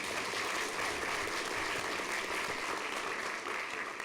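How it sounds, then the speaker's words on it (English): Steady applause fills a governing board meeting room as Bryce is recognized for his essay, an even, continuous patter of many hands at moderate level with no talk over it. "Let's give Bryce a round of applause"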